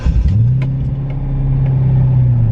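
Bone-stock Corvette, a 2004 car, rumbling loudly and steadily close by as it rolls into a backyard, with a low, even engine drone and slight rise in pitch.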